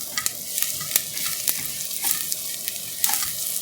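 Onions frying in a pan for an urad daal (black lentil) gravy, a steady close sizzle broken by repeated sharp stirring scrapes and clicks of a utensil, with no talking.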